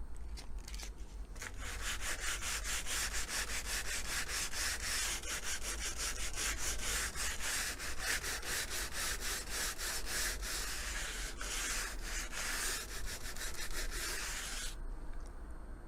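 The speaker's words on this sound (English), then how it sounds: "It really is so simple to sand and smooth." Rapid, rhythmic scraping of sandpaper against dried foam putty on model railway scenery, continuous strokes close up for most of the stretch, then stopping near the end.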